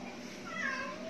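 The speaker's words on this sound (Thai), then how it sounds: "แมวร้องให้คอหมูย่างไปร้องใหญ่เลยอยากกินคอหมูย่าง" A house cat meows loudly and insistently in a drawn-out cry, begging for grilled pork neck during a motorcycle spotlight installation on a Honda Forza 300, over steady background noise.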